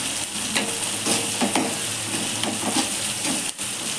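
Onions with a sprinkle of salt sizzle and fry in a pan for semiya upma, with steady hissing and occasional stirring scrapes throughout, close and continuous with no talking.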